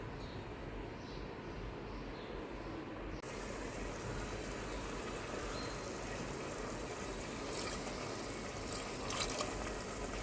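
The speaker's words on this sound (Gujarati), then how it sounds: "જરૂર પ્રમાણે આપણે પાણી ઉમેરીશું" Water is added to a simmering black-eyed pea curry on the stove, a steady broadband wash of pouring and bubbling liquid that runs unbroken throughout, fairly quiet, with no voices.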